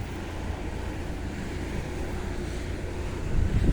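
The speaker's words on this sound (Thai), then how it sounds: "หวานซัดใส่ลมด้วยนะทุกคนลมพัดด้วยนะครับ" Wind gusting steadily outdoors beside a fishpond where a cast net is being thrown for tilapia, a constant low rumbling rush of air that swells louder near the end.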